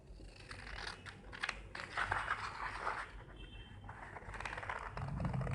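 Scissors snip through a paper blouse pattern in a quiet room, giving soft, irregular crisp cuts and light paper rustling close by.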